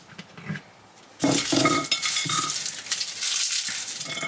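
Garlic dropped into a hot pan for a steamed tilapia dish, with a sudden loud sizzle that keeps up steadily, plus a few utensil clinks and stirring scrapes near the start.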